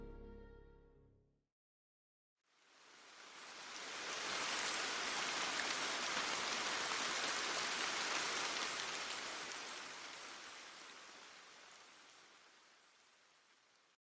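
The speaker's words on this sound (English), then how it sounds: "the rain that plagued the land finally began to clear" Steady in-game rain from Ender Lilies: dense, hissing downpour that swells in after a short silence, holds loud and even, then slowly thins and fades toward the end, with no voices over it.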